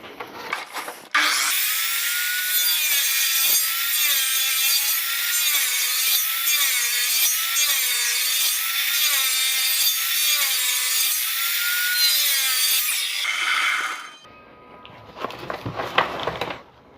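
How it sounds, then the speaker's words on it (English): A hand saw cuts a kerf in wood with steady, rhythmic rasping strokes that run continuously for about twelve seconds, close and clear, then stop and return in a short final burst. "I'm just going to try and kerf this out with the saw."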